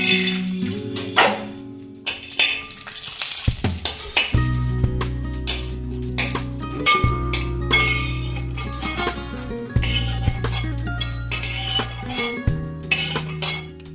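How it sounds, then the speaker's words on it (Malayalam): Cashew nuts roast in ghee in an uruli pan for jackfruit payasam, giving a steady close sizzle broken by stirring and sharp metallic clinks against the pan, with no talk. "അതിലേക്ക് കുറച്ച് അണ്ടിപ്പരിപ്പ് വറുത്തെടുക്കാം."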